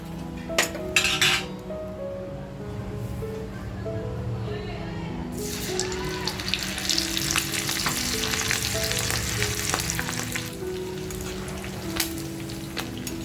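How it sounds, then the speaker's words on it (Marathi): Squid rings deep-fry in hot oil for Squid 65, a soft bubbling that swells into a loud, crackling hiss halfway through, with occasional metal clinks of a utensil against the pan. "ह्या माकुल माशाच्या रिंग सगळ्या तळून घेते"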